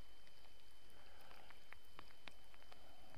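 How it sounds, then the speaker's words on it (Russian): Light rain beginning to fall outdoors during fishing, scattered faint drops ticking on a surface over a quiet background hiss, no talk. "Дождичек что-то начинается."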